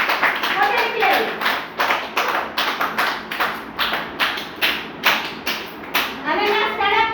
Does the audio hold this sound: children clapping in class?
yes